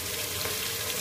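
Oil heating in a pan before cooking native chicken curry, a steady soft sizzle and crackle with a faint hiss, constant and even throughout, no talking.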